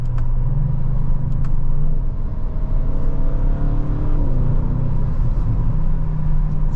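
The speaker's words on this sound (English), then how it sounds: "It's got a little bit of a pop to it in those exhausts too" A 2025 Audi RS7 Performance cruising on the road, its engine and exhaust a steady low drone with faint whir and slight pitch shifts as speed changes, heard from inside with no talking.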